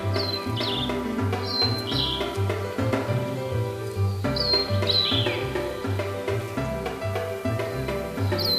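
Forest birds call repeatedly in a mountain woodland, with sharp high chirps and falling whistles standing out over a steady chorus and a low rhythmic insect-like drone.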